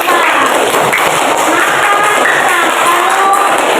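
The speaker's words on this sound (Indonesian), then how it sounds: "Tepuk tangan untuk pertanyaan dari Ipa." Classroom applause from students, a dense, steady patter of clapping filling nearly four seconds at close range.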